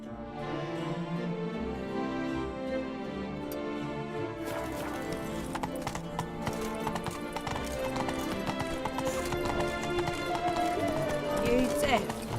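Hooves clip-clop steadily as a horse runs in The Witcher 3, carried under a constant bed of game music, with a voice speaking briefly and a short whinny near the end.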